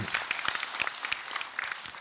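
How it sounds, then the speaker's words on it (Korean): Applause from an audience greeting a Buddhist monk at a dharma talk, a fairly dense patter of clapping with a few sharper claps standing out, steady and moderately close for the whole stretch. "박수로 맞으세요"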